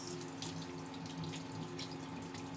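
A plantain is washed under a running kitchen tap, a steady close rush of water splashing into a sink for the whole stretch, with no voices.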